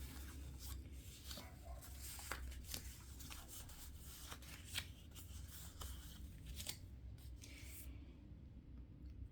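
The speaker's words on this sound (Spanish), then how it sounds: "Luego de barajar el mazo de comunidades" A deck of community cards for a board game is shuffled by hand, producing a steady papery riffling and rubbing with soft taps, fairly quiet and close, with no voices.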